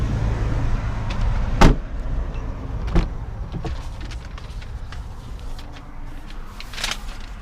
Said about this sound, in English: Automatic doors.